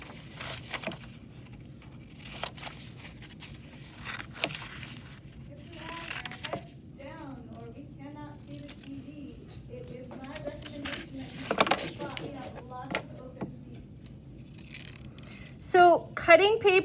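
Scissors snip through white paper to cut out shapes, giving sparse, quiet crisp cuts and paper rustles scattered across a calm room, with a voice speaking softly at times.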